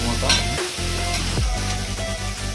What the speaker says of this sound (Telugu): ఇప్పుడు టమాటో వేగించుకుందాం.